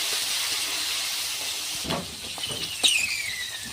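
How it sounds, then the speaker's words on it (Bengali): Green peas frying in hot oil for a samosa filling: a continuous bright hiss of sizzling oil, with small pops and scraping near the end. "আমি এখন পুর বানানোর জন্য মটরগুলো আগে ভেজে নেব।"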